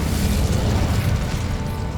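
A fiery burst from the Incendio spell cast in Hogwarts Legacy, a dense, roaring whoosh of flame that fills the whole moment at close range, loud and steady before easing slightly at the end.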